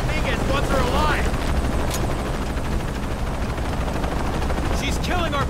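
Helicopter rotor drone from the video game Shadow of the Tomb Raider, a dense, steady roar that runs through the whole stretch, with gunfire, radio chatter and shouting layered on top.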